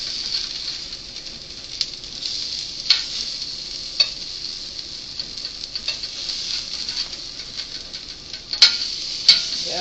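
A Mexican-style vegetable pancake fries in a hot pan, a steady soft sizzle broken by scattered crackles and a few sharper pops as it is flipped.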